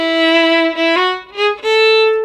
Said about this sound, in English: the first ending sounds like this.